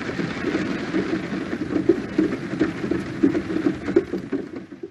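Steady rain falls in a mountain forest, a dense, even patter with slight swells in loudness and no other sounds over it.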